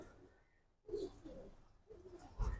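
Soft, low cooing of military pigeons comes in a few short bursts after a quiet start, faint and somewhat distant.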